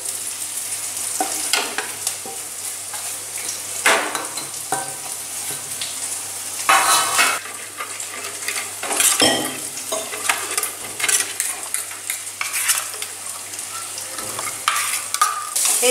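Spice paste for oil koi fish curry sizzling and being stirred in a pan, with steady frying hiss and repeated scraping strokes of a spatula, close and fairly loud, no talking.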